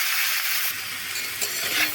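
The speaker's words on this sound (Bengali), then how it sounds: "ইঁচড়টাও ভালো করে ভেজে নেব।" Jackfruit pieces and potatoes fry in hot fat in a pan, giving a steady close sizzle with faint stirring scrapes throughout, no talking.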